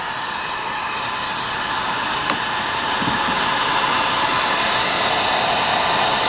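A heat gun blows hot air from underneath onto a part of a Philco 41-245 radio during restoration, making a steady loud rushing whoosh that holds constant and swells slightly, with a faint click.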